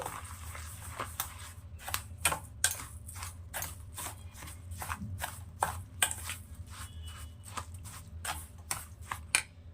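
Curd being stirred into semolina and sugar in a bowl for doi bhapa pithe, heard as a steady run of close, sharp scraping and tapping strokes against the bowl over a low background hum.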